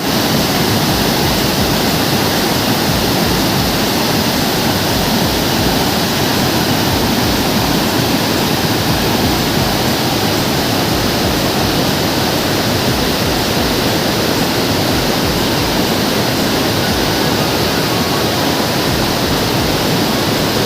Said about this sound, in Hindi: इस झरने को हम आपको जो वाटरफॉल है इसको दिखाते हैं